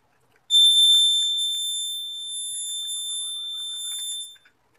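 A homemade fire alarm built from a battery, a tubelight starter and a piezo buzzer shrills with a loud, steady high-pitched tone for about four seconds, then cuts off.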